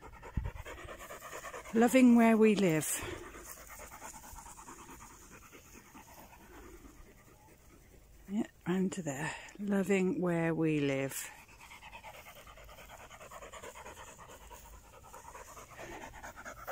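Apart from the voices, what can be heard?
dog panting on a walk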